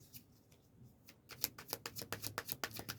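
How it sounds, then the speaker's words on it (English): A deck of tarot cards being shuffled by hand, quiet at first, then a fast run of crisp riffling flicks and card slaps close by for the last half. "So I'm just going to just shuffle and let whatever cards come out"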